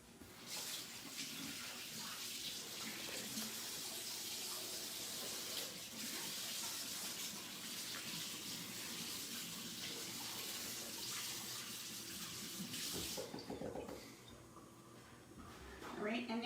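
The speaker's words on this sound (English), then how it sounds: "I'm gonna wash my hands again." Tap water runs steadily from a kitchen faucet while hands are washed, a loud continuous hiss with faint speech underneath, before the flow stops and a few handling sounds follow.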